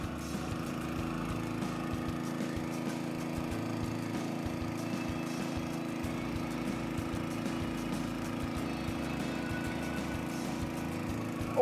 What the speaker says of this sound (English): Awesome Honda GX200 motor. It starts first full every time. Big twin impeller.